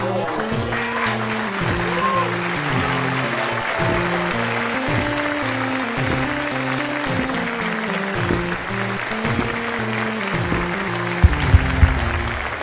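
A crowd claps steadily as a broad wash of applause under continuous background music, even in level throughout with a few sharp thumps near the end.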